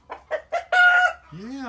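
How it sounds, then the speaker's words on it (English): A nearby rooster crows loudly on a farm with Muscovy and Ancona ducks: three short rising notes build into a long sustained call, and a second bird's call follows at the end. "Is that you hollering, you good for nothing rooster?"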